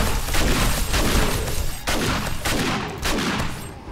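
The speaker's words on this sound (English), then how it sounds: "Shotgun." Shotgun blasts boom loudly and in quick succession in the video game 7 Days To Die, a dense, continuous barrage of close gunfire with no talking.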